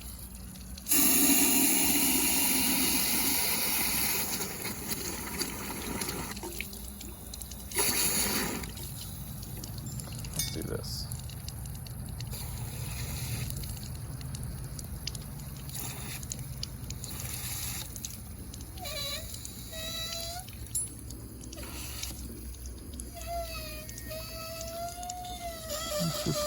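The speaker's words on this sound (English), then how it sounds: "we're gonna fill it up with water and see, because the water level's down a little bit" Water poured into the radiator of a rusty Hinomoto tractor, a loud rushing splash at first that settles into steady trickling and gurgling, with brief talk and gurgling tones later.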